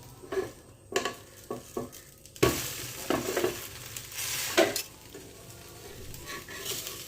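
A semolina snack frying in a pan and being turned with a slotted spoon, soft sizzling under a series of sharp scrapes and clinks against the pan, close up and moderately loud, with no talking.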